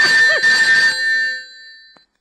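A mobile phone ringtone plays alone, a bright electronic melody for about a second before its notes ring out and fade into silence.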